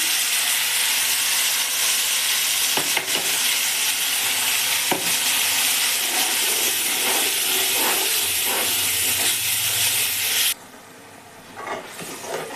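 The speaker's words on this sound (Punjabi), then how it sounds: "ਪੇਸਟ ਇਹਦੇ ਵਿੱਚ ਪਾ ਕੇ ਤੇਲ ਦੇ ਵਿੱਚ ਆਪਾਂ ਚੰਗੀ ਤਰ੍ਹਾਂ ਦੇ ਨਾਲ ਹੁਣ ਮਸਾਲੇ ਨੂੰ ਪੱਕਣ ਦਵਾਂਗੇ ਜੀ" Spice paste frying in hot oil in a pan with cumin seeds: loud continuous sizzle and hiss with occasional stirring scrapes, dropping abruptly to a quieter sizzle near the end.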